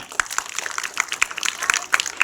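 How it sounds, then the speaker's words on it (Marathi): Villagers give the students a round of applause at a village school puppet-making event: a dense patter of many hands clapping close by for a couple of seconds, with a few sharper individual claps. "विद्यार्थ्यांसाठी आपण सगळ्यांनी जोरदार टाळ्या वाजवा"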